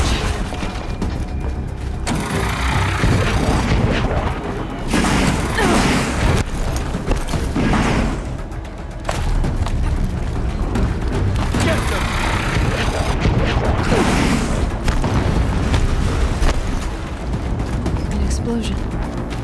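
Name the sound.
explosion in the video game Horizon Zero Dawn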